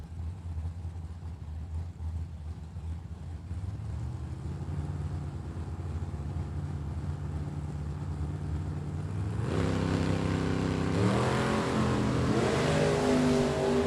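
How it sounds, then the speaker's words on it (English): Drag racing cars, a 1963 Chevy II and a 1990 Chevrolet Camaro, roar in a steady loud engine drone that builds and swells into higher revving, with no talk over it. "Bray with a 1990 Chevrolet Camaro down 736."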